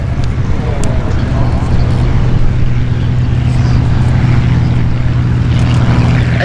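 A propeller airplane takes off at the busy EAA AirVenture fly-in at Oshkosh, its steady engine and prop drone loud and continuous throughout, with a radio controller's voice talking over it.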